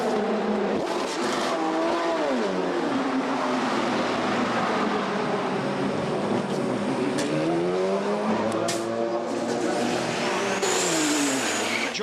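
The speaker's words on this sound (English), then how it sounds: "As the number 1 Audi comes off its jacks and starts to play" The number 1 Audi Le Mans prototype pulls away from its pit garage at the 2013 24 Hours of Le Mans, engine revving and rising in pitch through gear changes, loud and close over a constant roar of other race cars.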